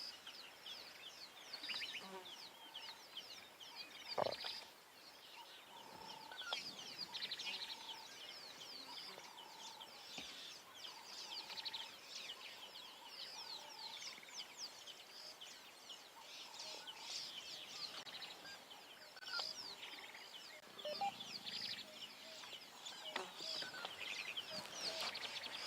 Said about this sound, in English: we are surrounded by all of these bird calls